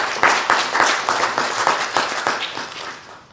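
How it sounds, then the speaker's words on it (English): A small group claps at a launch event in brief applause that begins strong and beats in loose rhythm before thinning and fading out over a few seconds. "let's give ourselves a let's round of applause for that."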